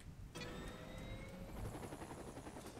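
A video game helicopter's rotor chops in steadily with a whining turbine tone, close and continuous after a sudden start, in Saints Row: The Third.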